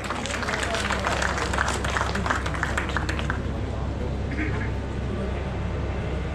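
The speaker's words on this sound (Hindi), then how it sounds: "मैं चाहूँगी सभी का ज़ोरदार तालियों द्वारा आप अगर स्वागत करेंगे" A crowd applauds to welcome guests at an inauguration ceremony, dense rapid clapping filling the hall before thinning out, with voices murmuring underneath.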